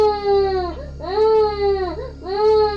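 An infant's crying, used as a sound effect in a Hindi horror story, comes loud and close in three rising and falling wails, each broken by brief whimpering breaths over a low steady hum.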